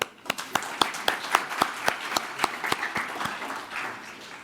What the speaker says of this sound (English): Let's give them all a clap.